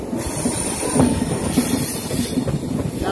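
The Padatik Express rolls along the rails on the New Changrabandha to New Cooch Behar run, a steady close rumble with rhythmic wheel clatter and a thin high squeal over it.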